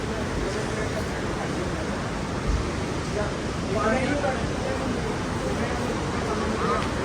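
River water rushing near Govind Ghat, a loud, steady broadband roar filling the whole stretch, close and continuous, with faint voices of people mixed into the wash.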